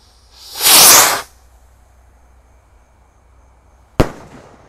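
A Roman candle firework on a festive Eid eve night gives off a loud whooshing launch hiss for about half a second. After a pause of a few seconds comes a single sharp, close burst.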